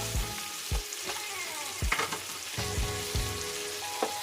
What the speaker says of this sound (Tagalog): ilagay ko na yung aking giniling. Pork giniling.